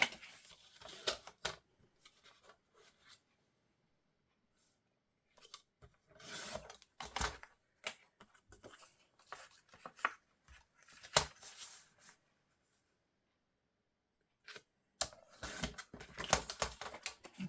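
Scissors or a blade cut a pocket into Christmas decoration material in close, quiet bursts of rasping, scraping snips separated by pauses of silence.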